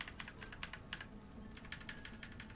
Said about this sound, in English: I guess I'm going to use the keyboard for this.